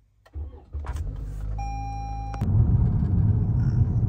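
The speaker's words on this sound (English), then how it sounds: "Start the car up." A car engine cranks with a short electronic chime, then catches and settles into a close, rumbling idle, with a few clicks and knocks before it fires.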